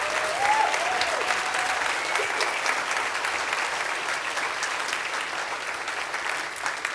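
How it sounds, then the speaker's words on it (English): An audience applauds a university vocal group with loud, sustained clapping that carries on throughout, while a voice briefly calls out near the start. "Let's give the Varsity Gentleman one more round of applause."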